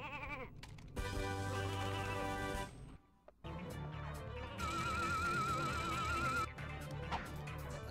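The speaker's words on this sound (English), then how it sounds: "I'm just gonna bet that the thing's gonna turn things into sheep." Sheep bleats from the Sheepinator weapon in the Ratchet and Clank video game ring out over busy game music and effects, wavering cries recurring amid loud layered sound with a brief drop near the middle.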